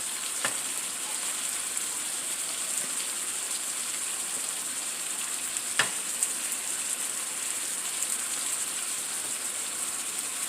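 Tilapia fries in a hot pan with a steady, bright sizzle like light rain, broken by a couple of sharper pops and crackles, and no voice.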